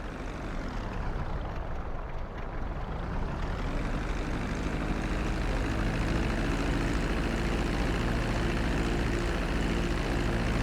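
A plane's engine drones loudly and continuously during a landing approach in GTA V, a steady, close roar with a shifting pitch as the aircraft slows.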